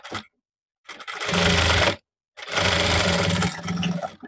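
A sewing machine stitches folded blouse fabric in two loud, close bursts, each a steady whirring run of about a second, separated by short silences.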